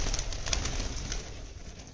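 Soft pigeon cooing while the pigeons eat feed, in a steady low murmur with fluttery background noise throughout.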